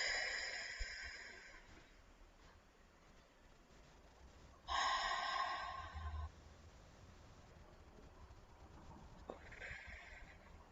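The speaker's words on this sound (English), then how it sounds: "So please take 3 deep breaths with me." Slow deep breaths taken during a guided closing prayer, with a long, louder inhale-exhale in the middle and quieter breaths before and after, close and soft, no talking.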